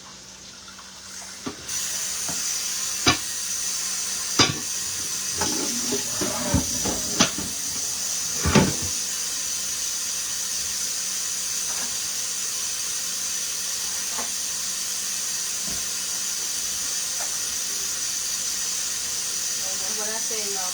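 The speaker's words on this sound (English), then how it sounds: "So let me rinse this out." A hot pan is rinsed under running water, giving a loud steady hiss with a burst of sharp clanks and bangs early on, then a long unbroken hissing rush.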